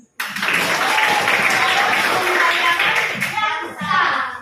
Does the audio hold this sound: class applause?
yes